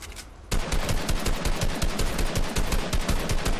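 Rapid continuous gunfire in a video game, loud and dense after a sudden start, with shots pounding in an unbroken barrage and a quieter lead-in before it.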